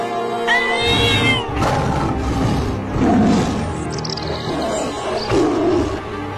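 Several drawn-out cartoon lion roars and growls, loud and close, overlapping with a higher wailing cat-like cry.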